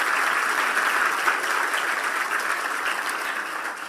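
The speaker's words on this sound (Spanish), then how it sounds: "dale un fuerte aplauso al Todopoderoso" A church congregation claps loudly together at a Spanish-language service, a continuous dense wash of applause that holds steady throughout.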